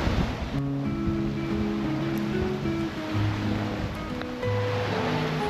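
Ocean waves wash steadily against a sailboat during an ocean crossing, a loud continuous surf and wind rush with tonal hum lines running beneath it.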